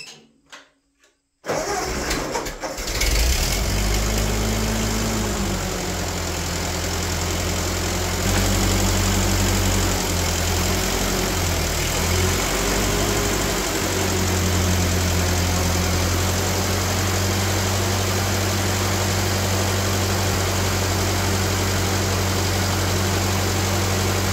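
An old farm tractor cranks briefly, catches and settles into a loud, steady idle that runs close up and unbroken for over twenty seconds, with a slight knock in the running and no talking.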